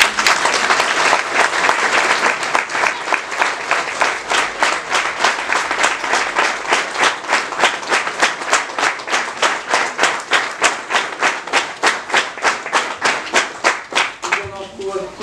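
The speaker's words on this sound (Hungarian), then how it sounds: "Egy tapsot!" An audience claps steadily and loudly at a school year-end folk dance performance, the applause growing into a rhythmic, unified beat before tapering off near the end.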